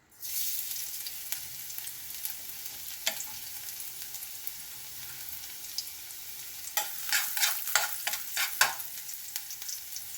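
Garlic dropped into a hot pan for pork pata paksiw sets off an abrupt, steady hiss, with occasional stirring scrapes that cluster near the end and no speech.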